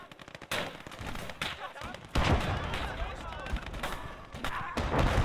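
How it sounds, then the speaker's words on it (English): Machine guns open up on advancing infantry in the WWII game Gates of Hell on the Eastern Front, with dense bursts of automatic fire and explosions rolling on loud and continuous throughout, under a speaking voice. "as they do, the MGs kick in and they're just getting demolished"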